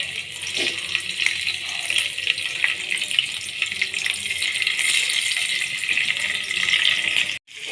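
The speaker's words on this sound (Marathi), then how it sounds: "पूर्णच पनीर फ्राय करून घ्यायचं आहे तर मी यामध्ये एक एक करून सर्व पनीर सोडून" Paneer pieces fry in a pan as they brown on both sides, giving a steady, dense sizzling hiss that runs unbroken and cuts out briefly near the end.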